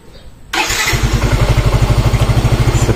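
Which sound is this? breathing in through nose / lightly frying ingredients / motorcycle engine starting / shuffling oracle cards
motorcycle engine starting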